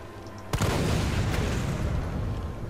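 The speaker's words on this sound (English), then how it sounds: "We just got to use the exploding barrels when we see them" An exploding barrel in Resident Evil 3 goes off with one sudden loud blast that rumbles and fades over the next two seconds, alone without talk.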